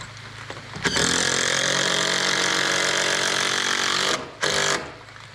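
A power tool drives lock screws into deck joists for a ledger and beam attachment on an A-frame cabin deck, one loud continuous whirring run of several seconds, then a short second burst after a brief pause.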